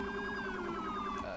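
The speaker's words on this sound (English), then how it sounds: "Oh my god, the thing does have sirens." Police vehicle siren in a roleplay video game, a steady wailing tone sweeping slowly downward with harmonics, loud and continuous throughout the short stretch, no talking over it.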